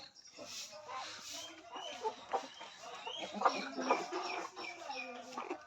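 Country (desi) chickens cluck and call in short bursts, fairly close, on a poultry farm, with a breeder rooster's voice mixed in and faint talking underneath.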